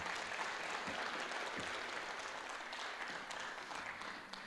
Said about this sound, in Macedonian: Ве молам да ги поздравиме со еден аплауз.